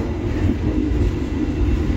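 A night train travels between Jakarta and Kediri, its steady low rumble and wheel noise continuous and loud throughout, close by inside the carriage.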